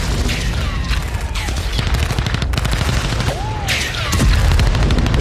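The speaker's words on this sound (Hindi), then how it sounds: "बारूदी सुरंग के विस्फोट से टैंक को तबाह कर दिया गया।" Dense, rapid bursts of gunfire and blasts crackle throughout, with a heavier booming rumble near the end as a landmine destroys a Russian tank in the Russia-Ukraine war; loud and close, chaotic combat noise.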